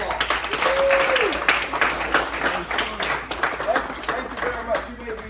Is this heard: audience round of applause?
yes